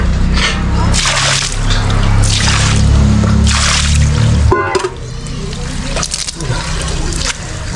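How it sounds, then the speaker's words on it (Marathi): A stream's rushing water fills the clip, a loud continuous flow that eases slightly midway, with faint bits of voice and handling underneath. "ओढा आपल्याला भेटला आहे"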